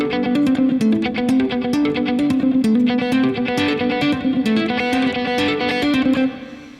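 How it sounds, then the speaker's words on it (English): Electric guitar riff played with selective picking and hammer-ons, a steady stream of quick, evenly spaced notes with a lightly effected, slightly driven tone, loud and close, with no voice over it, ending in a brief fade. "Here's a fun little riff to practice to work on selective picking"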